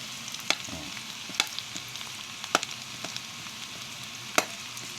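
Garlic, onion and tomato sautéing in a pan give a steady close sizzle, with several sharp clinks or scrapes from stirring scattered over it.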